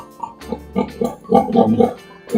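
A pregnant sow grunting while nest-building on the day before farrowing, a close, loud series of short rhythmic grunts and oinks with no talk over them.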